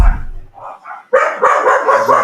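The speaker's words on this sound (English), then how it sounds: "Oh, those dogs get loud." Several dogs bark loudly and close by in a rapid, overlapping burst that follows a quieter stretch.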